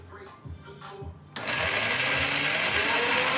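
A high-speed blender purees a vegan creamy cabbage sauce with nutritional yeast. A few soft knocks come first, then the motor kicks in with a sudden loud, steady whirring roar.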